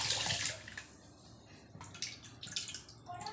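Food being washed by hand in water gives splashing and dripping in uneven bursts, close and fairly quiet, with no voices.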